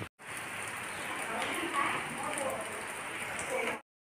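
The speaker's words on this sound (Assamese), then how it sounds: "আজি লক্ষ্মী পূজাৰ দিনাখনিও ৰাতিপুৱাৰ পৰা বৰষুণ ঢালিয়ে আছে পূৰা" Heavy rain pours steadily onto surfaces during a prolonged monsoon-like downpour, a dense continuous hiss at moderate level that starts and stops abruptly.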